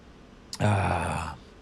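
A jet engine spools up abruptly into a loud, sustained rising roar with a strong low hum and bright whine, then fades slightly after about a second.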